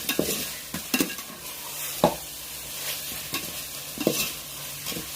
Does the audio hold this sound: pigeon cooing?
no